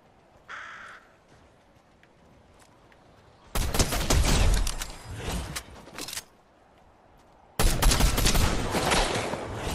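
Two long, loud bursts of rapid gunfire in Fortnite during a pro tournament match, close and harsh, separated by a few seconds of quieter game ambience.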